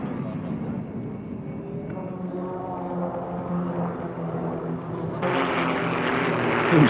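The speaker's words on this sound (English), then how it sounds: "these 4 tiny extra 300s in the very capable hands of the Royal" Four small Extra 300 aerobatic propeller planes of the Royal Jordanian Falcons fly over an air show, their engines droning steadily in the distance and growing louder and harsher toward the end.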